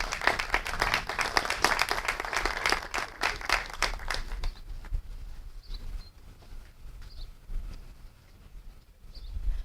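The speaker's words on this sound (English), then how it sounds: "Please give her a round of applause." Audience applause at a ceremony fills the first few seconds, loud and dense, then fades into quiet room noise with a few faint chirps.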